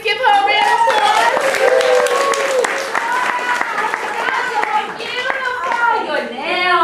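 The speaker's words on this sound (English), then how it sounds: "Can everybody in the audience, live audience, give her a round of applause?" Live audience clapping and cheering loudly for a guest, dense applause with excited voices and children's chatter layered over it throughout.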